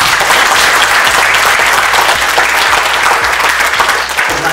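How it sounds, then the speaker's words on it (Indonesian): An audience at a digital-era selling and branding training session claps loudly and steadily for a presenter, dense continuous applause heard close up with no speech over it. "Aplaus yang meriah untuk Bu Oi ya."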